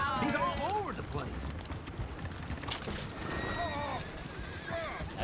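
Horse-drawn coach in Red Dead Redemption 2, with hooves clip-clopping at a run, whinnying horses and rattling carriage noise, steady and close under ongoing talk.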